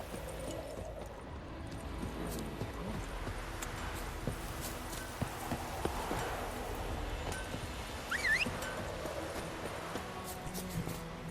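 Horse hooves clip-clop in The Witcher 3 video game, steady soft footfalls under a noisy game soundscape with ambient rustle, moderately quiet throughout.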